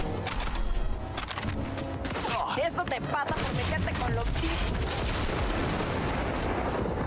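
Rapid gunfire from a fast-shooting gun in Cyberpunk 2077, dense repeated shots crackling under game sounds and a speaking voice, with bursts scattered through the stretch.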